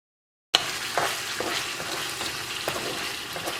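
Chicken curry with garam masala and crushed kasuri methi being stirred in a pan, a continuous broad sizzle with repeated scraping strokes that starts abruptly after a short silence and runs on steadily with no voices.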